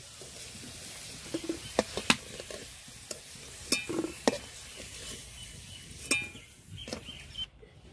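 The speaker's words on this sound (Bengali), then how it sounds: "আলুগুলো ভালো করে ভেজে নিয়েছি, এখন তুলে নেব।" Potatoes frying in oil in a pan for an aloo matar paneer dish, with a soft continuous sizzle under scattered clinks and scrapes of a utensil lifting them out, close and quiet.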